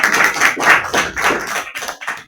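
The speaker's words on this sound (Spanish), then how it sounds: "Otro aplauso más para que comience a leer." Audience applause at a literary reading, a short burst of clapping from a small group, with uneven thumping rhythm that thins out and stops after about two seconds, close and fairly loud, no talking.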